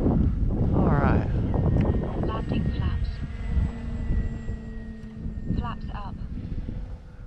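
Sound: E-flite CZ T-28 RC model airplane flying

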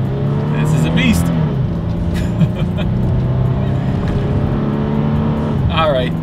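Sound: 2021 Toyota 4Runner accelerating

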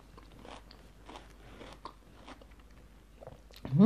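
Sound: chewing crunchy vegetables from sour curry

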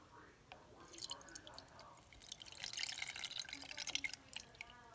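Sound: tamarind pulp liquid pouring through a strainer

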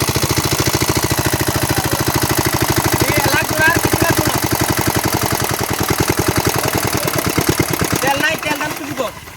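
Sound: engine of irrigation pump draining pit for fishing

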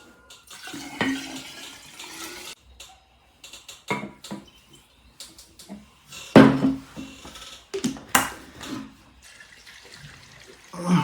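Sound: water poured into alcohol

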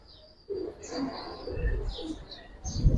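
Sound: pigeons cooing

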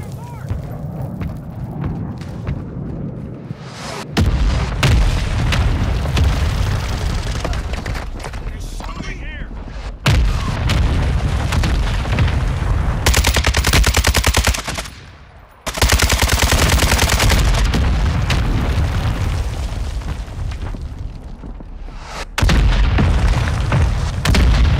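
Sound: mortar strike explosions in the video game Call of Duty Warzone

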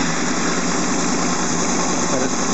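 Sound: Honda VFR800 motorcycle engine idling hot

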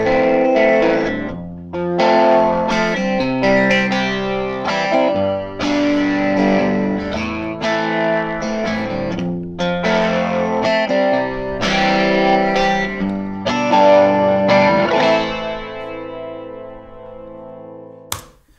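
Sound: guitar amp flanging effect

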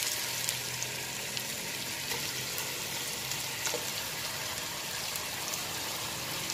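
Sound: frying onion, potatoes and chicken in a pan

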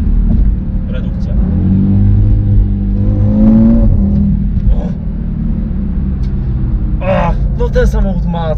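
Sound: Audi RS3 car downshifting and revving engine

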